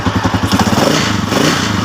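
A Honda TMX155 motorcycle engine idles close up with a steady, even, rapid putter and a faint mechanical clatter, alone and without talk.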